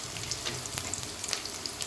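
Chillies and a little fennel seed sizzling in hot oil in a pan, a steady close frying crackle with small pops and spits throughout, no voices.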